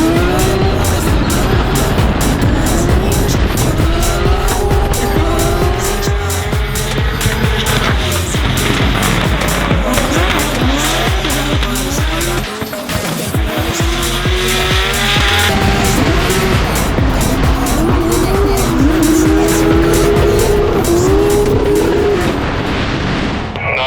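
Drift cars in tandem practice, engines revving hard with rising and falling pitch and near-continuous tire squeal, loud and sustained throughout.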